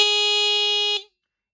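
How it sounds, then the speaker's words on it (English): A Pidzoom finger-controlled bicycle horn gives one continuous, steady electronic beep for about a second, then cuts off abruptly into silence. "This one does give you a continuous beep"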